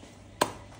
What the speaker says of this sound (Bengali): বড় জিনিস দিয়ে কাটলাম, যেহেতু বড় সাইজের মাছ।